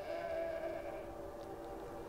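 A sheep in the video game BEYOND: Two Souls gives a drawn-out, wavering bleat, faint and fairly distant over a low ambient background, with no talking.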